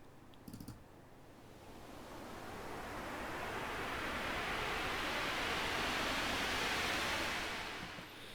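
A broad hiss of noise swells up after a brief clicking start, rising steadily and holding loud before easing slightly at the end, with no voices.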